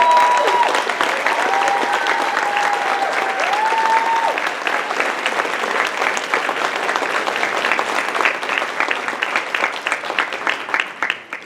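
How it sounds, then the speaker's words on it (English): A large convention crowd at the Anime Central 2017 closing ceremony applauds steadily and loudly throughout, dense clapping with some cheering mixed in, holding strong to the end. "Please, give a really warm round of applause."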